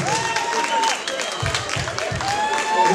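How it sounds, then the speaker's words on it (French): Clapping and crowd noise at a Paris fashion show honoring the young designer, mixed with whoops and voices close by; applause rises and falls in bursts. "un tonnerre d'applaudissements pour le créateur"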